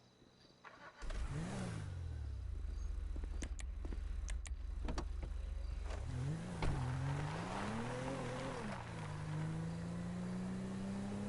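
A car in GTA 5 driving toward Paleto Bay, its engine starting and then holding a steady drone before revving and rising through the gears, close and continuous with no talking.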